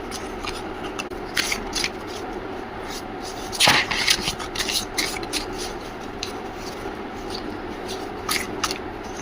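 Tarot cards being shuffled and drawn by hand, a soft papery rasp with scattered flicks and one sharper slap, fairly quiet and continuous with no talking.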